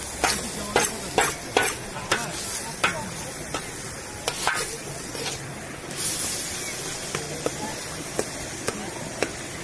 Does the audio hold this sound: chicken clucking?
no